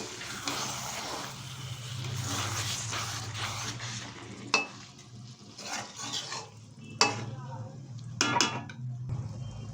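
Rice and chicken stirred in a pot with a spatula for chicken rice, a steady low hum and broadband scraping running underneath, with a few sharp clinks of the utensil against the pot near the end.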